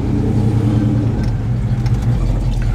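A car drives along a road with a loud, steady engine drone and road rumble heard from inside the cabin, continuous and close, with no talking.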